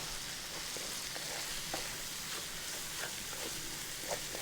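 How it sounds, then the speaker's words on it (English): A wooden spoon stirs a thickening beef stroganoff sauce in a hot pan, with a steady sizzle and soft scraping strokes recurring at an even pace, close by and alone. "Get a wooden spoon, keep stirring."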